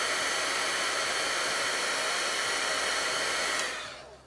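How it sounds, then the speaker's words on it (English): A heat gun melting embossing powder on a die-cut card blows a loud, steady, close airy roar for about three and a half seconds, then quickly fades out. "I don't aim my heat gun at it so it doesn't actually get melted on there"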